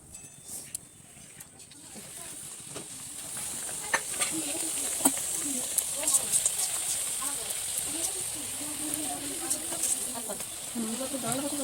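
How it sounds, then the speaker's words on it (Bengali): Luchi fry in hot oil in a wok-like kadai, making a steady, bright sizzle with occasional pops throughout while a person talks over it. "লুচি ভেজে নিচ্ছি এইভাবে"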